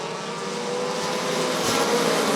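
Field of race cars roaring off the start of a bracket feature at Rockford Speedway, a steady broad engine drone that swells slightly as the pack accelerates, without talk.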